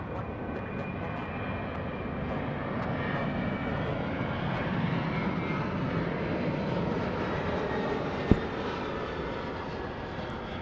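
An airliner rolls for takeoff on runway 34 left at Sydney Airport, its engines a steady, broad roar heard from a distance that holds evenly throughout, with one sharp click partway through.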